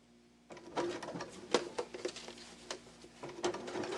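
A sewing machine stitches a seam on a beginner fabric bag in short uneven bursts of needle clatter, with brief pauses and clicks between runs, close by.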